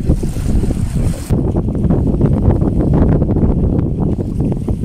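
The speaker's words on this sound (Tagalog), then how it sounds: "Mahangin siya." Heavy wind buffeting a microphone, a steady low roar with gusty rumble throughout and no clear voices.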